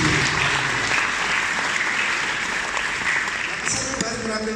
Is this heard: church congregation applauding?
yes